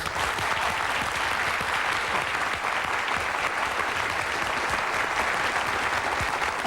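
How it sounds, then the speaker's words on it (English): A television talk-show studio audience welcomes actor Robert Loggia with sustained, dense applause that stays even and unbroken throughout, heard from within the crowd with no talking. "the audience erupted into spontaneous applause"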